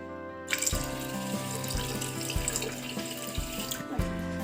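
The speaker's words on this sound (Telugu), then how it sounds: "వాటర్ తగినన్ని పోద్దాం దీంట్లో" Water poured from a glass into a pan of sugar for gulab jamun syrup, a steady running splash with a few thumps of the vessel, close and continuous, with no talking.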